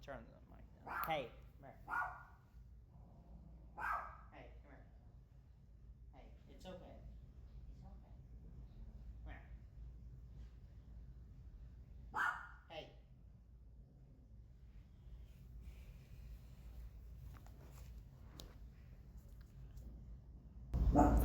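Dogs bark intermittently in a home during a live sports talk stream, a few short faint barks and yips spread out over quiet background hum, with a voice calling out.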